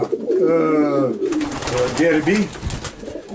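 Racing pigeons coo repeatedly at close range in a breeder's loft, soft throaty warbling calls overlapping with someone talking.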